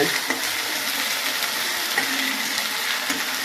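Ginger paste fries in a pan with a loud, dense, continuous sizzle, lightly stirred with faint scraping underneath, no voices.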